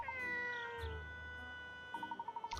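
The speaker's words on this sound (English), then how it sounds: "That's the cat I was chasing." A cat in the video game Layton's Mystery Journey lets out short meows over soft background music, followed by a quick run of chiming notes.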